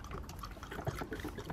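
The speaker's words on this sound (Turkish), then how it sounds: "Her bir kavanoz için 1 çay bardağı dolusu sirke ekliyorum." Vinegar, grape vinegar by the glassful, poured into a jar for pickling, a soft, close trickle and glug of liquid filling glass over a short stretch, quiet and alone.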